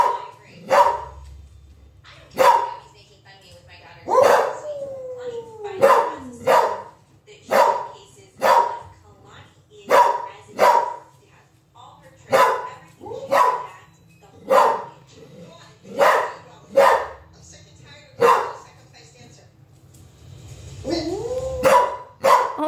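A dog barks in a steady series of sharp, loud barks repeated about every second, with an occasional whine between them and faint voices nearby.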